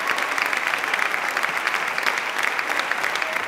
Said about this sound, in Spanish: El aplauso para todos los nombrados que son parte